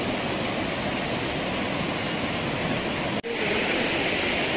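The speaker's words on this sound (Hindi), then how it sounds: "हमारी बगल में बह रहा पार्वती झरना" Parvati waterfall pours down a mountain valley, a dense, steady roar of rushing water close by, loud and unbroken apart from a brief cut partway through.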